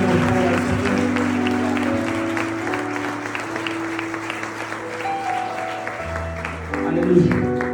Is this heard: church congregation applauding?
yes